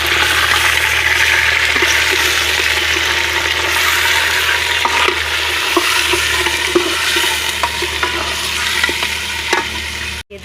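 Meat going into a hot cooking pot in an outdoor Pakistani village kitchen, giving a loud, steady sizzle and frying hiss with scattered crackles and small clatters throughout, with no talking.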